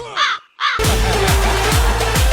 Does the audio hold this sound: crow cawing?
yes